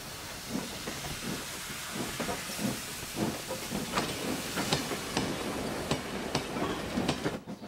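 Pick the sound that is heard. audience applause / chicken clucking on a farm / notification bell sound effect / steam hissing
steam hissing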